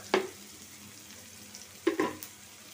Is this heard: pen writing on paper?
no